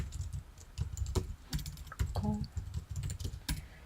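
Close-up typing on a computer keyboard during server setup, with irregular key clicks and taps in short uneven runs over a soft background hum.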